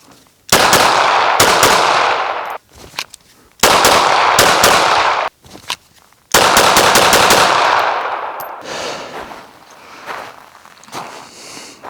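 Three bursts of rapid pistol fire from a Smith & Wesson Bodyguard 2.0 outdoors, each a quick string of loud, sharp shots with rolling echoes, separated by short pauses with faint handling noises and a fading tail at the end.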